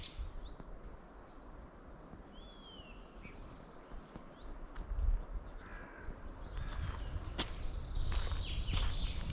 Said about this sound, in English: Hear the birds above in the distance.